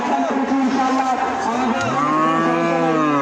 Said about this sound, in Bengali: এই গরুটা দেখেন সুন্দর একটা গরু